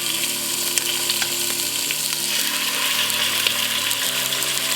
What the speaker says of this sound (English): We're going to add the chicken thigh skin side down.